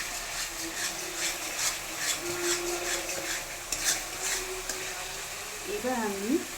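Masala spice paste sizzles steadily in oil while being stirred for paneer butter masala, with scraping strokes and small pan clinks under continuous frying, and a voice speaking briefly near the end.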